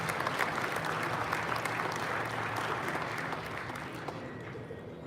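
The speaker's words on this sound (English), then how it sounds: "let's give ourselves a round of applause for that" An audience at a trade-show awards event gives a dense, continuous round of applause that stays strong and gradually tapers toward the end.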